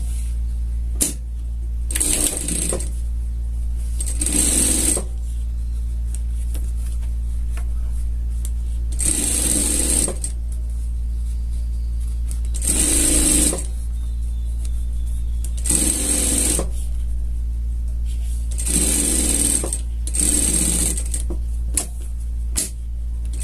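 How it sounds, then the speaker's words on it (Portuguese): A sewing machine topstitches a denim jacket in several short bursts of fast rhythmic stitching, spaced by pauses over a constant low motor hum. "Vai estar prespontando, tá? E passando uma costura de segurança aqui em cima"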